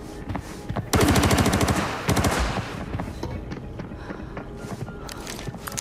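Gunfire in the Arena Breakout video game: rapid bursts of automatic fire, one long loud burst then a shorter one, followed by scattered lighter shots and footsteps-like clatter.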